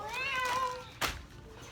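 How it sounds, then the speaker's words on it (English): A house cat gives one clear, rising-and-falling meow up close, followed by a short sharp bump in an otherwise quiet indoor room. "Cat."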